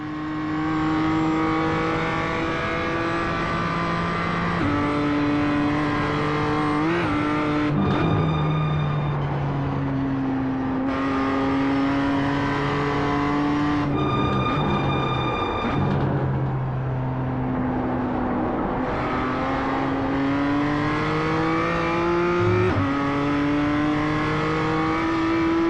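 Race car lapping the Nürburgring in a racing game, its engine roaring flat out in long sustained pulls, with repeated upshifts and downshifts stepping the pitch up and down, loud and close throughout.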